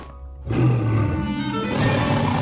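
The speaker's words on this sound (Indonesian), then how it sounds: "Bukan batu, beruang!" A cartoon bear lets out a loud, sustained roar that starts abruptly after a brief lull and holds strong, rough and close, to the end.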